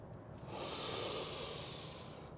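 A single long, breathy exhale during a Pilates lift, close and steady, swelling and then fading over about two seconds.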